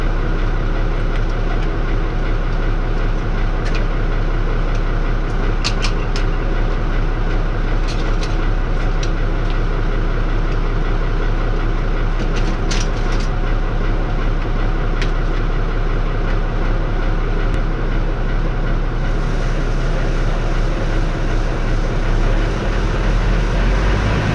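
Farm tractor engine held at 1300 rpm while hooked up to a new crop sprayer for herbicide on rapeseed; a loud, steady drone that runs unbroken throughout with only small ticks and knocks on top.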